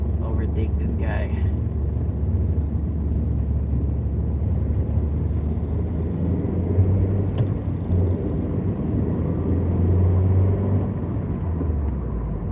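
Honda CR-Z in sports mode accelerating to overtake another vehicle, steady engine and road rumble continuous and fairly loud throughout, with a driver talking over it.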